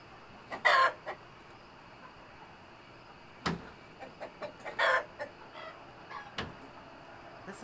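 Chickens cluck and squawk loudly at night in a flock, sharp scattered bursts of calls with quiet gaps between them, heard fairly close.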